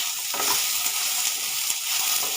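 Slit green chillies sizzle in hot oil in a pan while gimi shak is being cooked, a steady close crackling hiss that runs unbroken and fairly loud with no voices.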